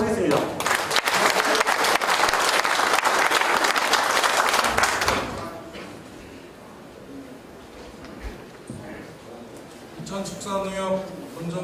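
Audience applause at a building completion ceremony for a livestock cooperative's head office: loud, dense clapping for about five seconds, then dropping away to quiet room tone before a voice begins speaking over light background noise.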